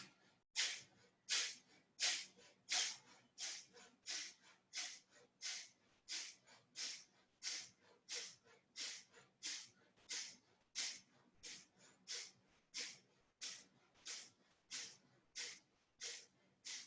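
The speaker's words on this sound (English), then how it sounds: "1 more round of Kapalibati, skull shining breath" Kapalabhati skull shining breath: a long steady train of about thirty forceful nasal exhalations, sharp hissing puffs at a brisk even pace, close and alone with no talking.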